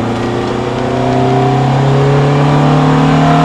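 Ferrari F430 F1 on track at light throttle, a steady close engine drone with bright harmonic lines climbing slowly, loud and continuous with no talk over it.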